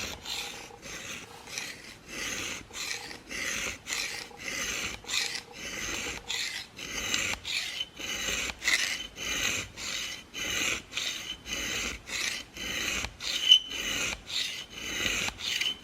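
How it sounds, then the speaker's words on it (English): A four-blade broadhead arrow tip is drawn steadily over a sharpening stone, giving a regular run of short, crisp rasping strokes, close and fairly loud, continuing without a break and with no talking. "I'm going to move the broadhead into the stone."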